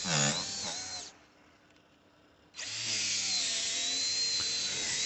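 Rotary polisher spinning at high RPM on a car headlight, a loud, shrill whine that winds down into a quiet lull and then spins back up to full speed.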